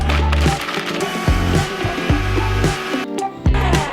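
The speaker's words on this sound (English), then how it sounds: "We're gonna blend that" A blender whirs loudly through blueberry puree, its steady motor drone shifting in pitch and load as the berries churn, with a brief dip near the end before it surges again.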